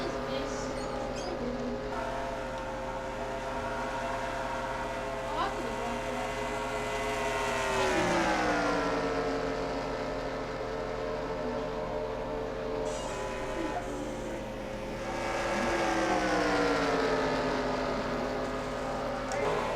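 NASCAR stock car engines in the NR2003 racing game roar steadily, with pitch sweeps as cars pass and shift, under a commentator's voice throughout.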